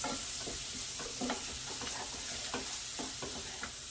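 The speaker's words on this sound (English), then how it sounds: "And now I'm adding in a 1/4 cup of flour." Quarter cup of flour being stirred into 2 or 3 tablespoons of sizzling butter in a pan to make a roux, a steady frying hiss with repeated scraping stir strokes, close and without talk.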